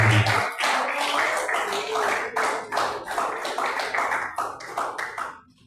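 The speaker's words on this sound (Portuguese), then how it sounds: "Pode bater as palmas bem forte para o Senhor" A church congregation claps hands together during a worship service. The clapping is loud and steady, in rhythmic bursts that continue for several seconds before fading out at the end.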